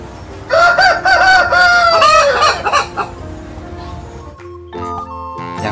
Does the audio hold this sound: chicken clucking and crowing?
yes